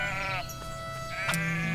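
Sheep bleat in the farming video game Everdream Valley: a few distinct bleats, fairly close, over steady tonal game music.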